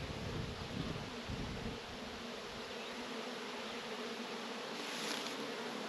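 Honey bees swarm around an opened hive with a busted honey frame during a nuc split, their buzzing a steady, dense drone throughout with faint rustling and a low rumble early on.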